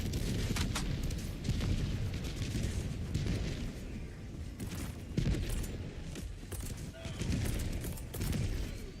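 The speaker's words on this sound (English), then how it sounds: "Calling in orbital strike!" Dense, continuous barrage of orbital strike explosions and gunfire in a sci-fi shooter game battle against robots, rumbling booms overlapping for the whole stretch with a few sharper blasts standing out.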